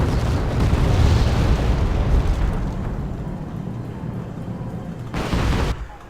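Bombs dropped by Nighthawks explode in a video game battle. A loud, rumbling burst of blasts comes at the start and fades into a lingering roar, then a short sharp burst follows near the end.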